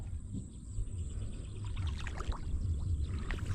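Water pours steadily with a soft gurgling splash, close and fairly quiet, without talk.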